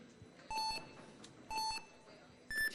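Three start buzzer beeps in a steady one-second rhythm, each a bright electronic tone, the last higher-pitched, sounding over a hushed crowd at a speed climbing qualification round at NEOM.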